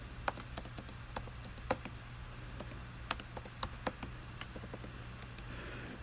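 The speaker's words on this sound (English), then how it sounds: "Let me type it in." Quiet typing on a computer keyboard, a string of light, irregular key taps at close range over a steady low background hum.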